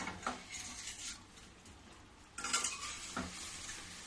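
A spoon stirs watermelon rind sweet in a kadhai over a medium gas flame, giving a few quiet scraping strokes against the pan over a soft sizzle, with no talking.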